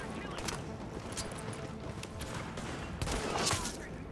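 Sustained automatic gunfire from a gun in The Division rattles on steadily as a dense, fairly quiet stream of shots with a few louder bursts, set against a noisy game backdrop.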